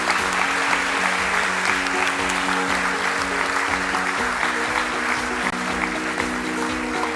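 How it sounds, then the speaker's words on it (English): Steady audience applause fills a listing ceremony hall at a stock exchange, continuous and even, with a low tonal hum or music underneath. "That calls for an applause,"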